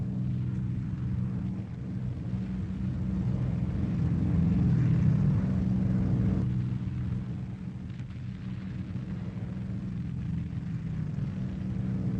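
A formation of propeller-driven bombers drones overhead in a steady, dense engine rumble that swells slightly mid-way and holds for over ten seconds, loud and continuous with no voices.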